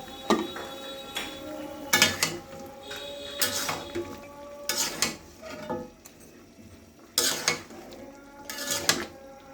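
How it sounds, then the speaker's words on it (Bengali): A spoon stirs coriander and cumin powder into chicken in a pot for biryani, giving a series of scraping, clattering strokes against the metal in irregular bursts with quiet pauses between, close and moderately soft. "মশলা দুইটা ভালো করে নেড়ে চেড়ে মিক্স করে নিয়েছি"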